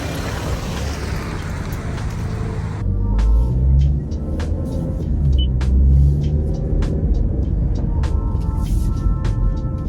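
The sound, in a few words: Toyota Camry SE driving off in sport mode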